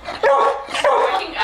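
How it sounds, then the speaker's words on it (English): A female dog gives two sharp, close barks with a whiny, yipping edge, loud and alone. "Why are you barking at me?"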